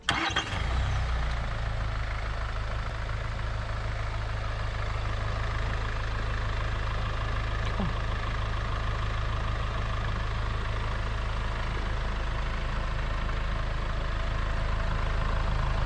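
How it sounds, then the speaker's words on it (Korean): A Land Rover Discovery Sport engine cranks and catches, then settles into a steady low idle rumble that continues evenly, with no talking. "우선 시동을 한번 켜보겠습니다"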